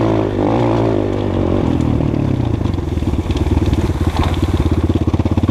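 Skybike CRDX 250 motorcycle engine after a kick start, settling from an uneven rumble into a steady, rapid, loud close-up idle chug that runs throughout.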